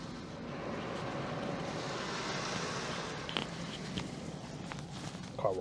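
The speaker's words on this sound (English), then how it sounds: "Car wash is almost over." Automatic car wash running over a GTI: a steady, broad hiss and rush of spraying water and machinery fills the space, with a few faint knocks and clicks near the end.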